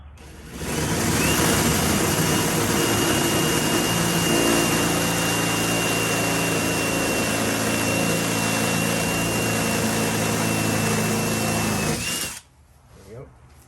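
A power drill bores a 25/64 inch hole for a 1/4 inch threaded rivet nut in a Sprinter van rear door panel, running loud and steady with a high whine for about eleven seconds before stopping abruptly.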